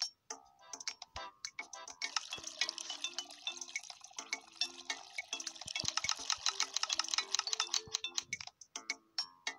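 A drink pours in the video game Papa's Mocharia To Go, heard as a dense run of quick ticking, dripping cues over soft tonal game music, fairly quiet with no voice.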